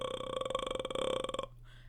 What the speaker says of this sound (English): what I'm going to do is an inward vocal fry